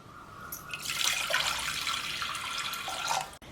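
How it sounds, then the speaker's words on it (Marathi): Water pours steadily into a metal pressure cooker for about three seconds, a bright rushing splash that ends abruptly; close and fairly loud, no talking. "मी इथं कुकर घेतला याच्यात पाणी घालू"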